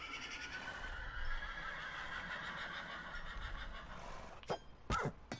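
A Minecraft skeleton horse gives a long, raspy, wavering neigh, loud and close, followed by a few sharp clicks near the end.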